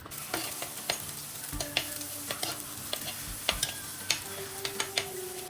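Chopped ginger, garlic, green chilli and shallots sizzle in hot oil, with a steady frying hiss broken by frequent clicks and scrapes of a spoon stirring in the pan.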